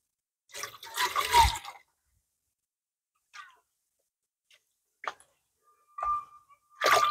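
Dirty water is poured off a gold pan of wire-gold paydirt in one splashy pour lasting about a second. Scattered faint drips and small splashes follow, with quiet gaps between them and no talking.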